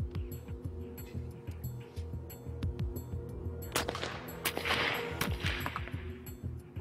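Test shots from a smoothbore musket and a rifle firing into ballistic gel, heard as several sharp cracks scattered over a busy, reverberant background with a louder, denser burst near the middle.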